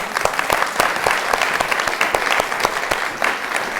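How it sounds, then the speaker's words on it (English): Audience claps for a volunteer coming on stage at a women's leadership event, a fairly close, lively patter of hands with distinct sharp individual claps standing out throughout. "Oh, give her a clap."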